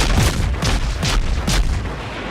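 Naval gunfire from the World of Warships video game comes as a rapid series of four or five deep, booming shots roughly half a second apart, loud and dense over a heavy rumbling background.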